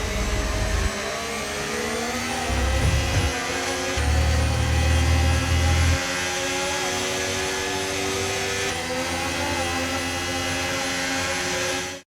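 An F1 car from the F1 25 racing game drives in after a sprint race at the Brazilian Grand Prix, a steady engine drone with low revving bursts early on, holding at constant loudness with no talk until it cuts off.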